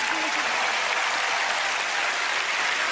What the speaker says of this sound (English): A big round of applause for Alyson!